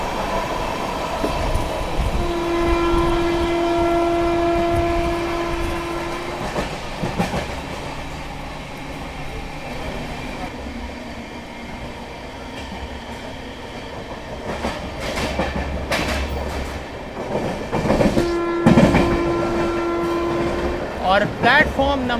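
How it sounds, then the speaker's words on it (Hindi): The Banaras–Agra Vande Bharat Express passes close by with a rushing roar and rhythmic wheel clatter, and a horn sounds twice, early and again near the end. "बनारस साइड से आ रही है 20-1-75 बनारस आगरा वंदे भारत एक्सप्रेस"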